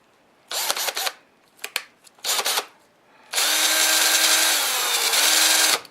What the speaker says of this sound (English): Oh, and the drill was right below the camera.